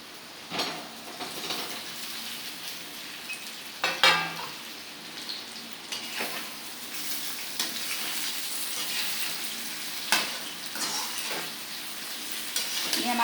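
Barmarakash leaf pakoras fry in hot oil with a steady crackling sizzle throughout, broken by occasional sharper pops and bursts as batter pieces are stirred, close and continuous with no voices.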